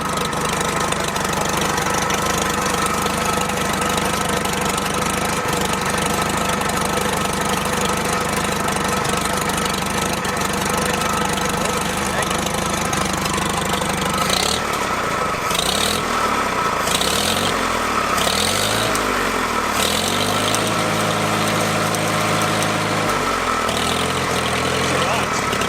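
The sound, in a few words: old abandoned tractor engine idling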